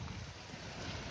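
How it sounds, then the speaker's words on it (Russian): A small waterfall on a mountain stream in the Carpathians, a steady broadband rush of falling water that is low in level and even, with no voices present. "Мини-водопад, да?"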